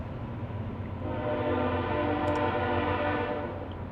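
A slow-moving train sounds a loud, sustained horn that swells and holds without a break, backed by a continuous low rail rumble and a faint brief chirp partway through.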